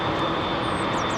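A Boeing 787 Dreamliner taking off at London Heathrow roars loudly and close, a dense, steady jet-engine blast across the whole clip with no voices.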